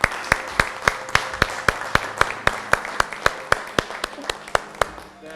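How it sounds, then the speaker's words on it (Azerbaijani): A talent-show audience claps in a steady, rhythmic beat, sharp evenly spaced claps ringing out over a hall murmur for several seconds. "bax bu alqışlar sizindir."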